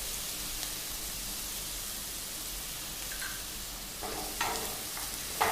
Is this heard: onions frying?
yes